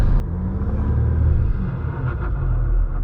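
Jeep Grand Cherokee WK2 EcoDiesel High Altitude's diesel engine drones steadily from inside the cabin while driving, a continuous low rumble with road noise and no talking.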